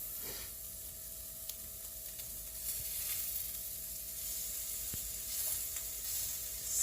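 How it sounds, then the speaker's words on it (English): Food fries in a pan at home, giving a faint, steady sizzle with soft crackles and a few clicks, continuous and fairly distant. "Sizzle, sizzle, sizzle."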